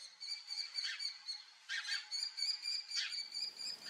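Shrill, high-pitched kestrel chick calls repeat in quick bursts, overlapping and continuous, fairly close with no other sounds.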